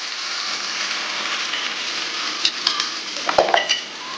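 Dry fish sizzles in hot oil with chili powder, a bright, steady frying hiss. A few metal utensil clinks and scrapes against the pan come near the end, and no one talks.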